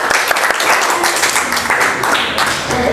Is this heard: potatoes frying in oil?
no